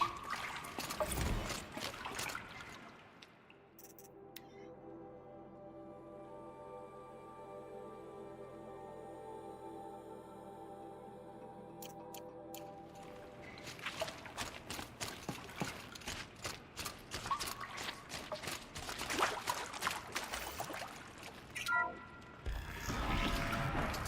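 Water draining from a dam in the video game Horizon Zero Dawn: a steady tonal rush and trickle that holds for several seconds, framed by busier splashing and clatter before and after.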